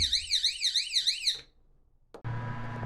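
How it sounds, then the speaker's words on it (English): An Arduino-built motion-detecting burglar alarm goes off with a loud, rapidly warbling electronic siren for about a second and a half. It cuts out, then a click is heard and a steady low hum follows. "And now we'll trigger the alarm."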